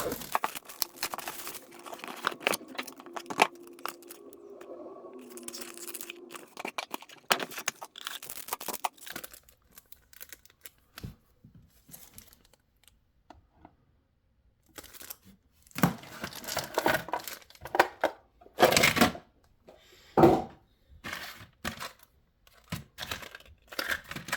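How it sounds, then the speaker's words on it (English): Packaging of a Pokémon Black Bolt and White Flare Elite Trainer Box being torn open and crinkled by hand, close bursts of ripping and rustling separated by quiet pauses, with no talking. "Let's rip it open and see what we can get."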